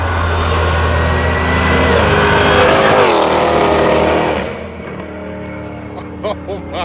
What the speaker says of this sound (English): Now it's time to see what the Hellcat sounds like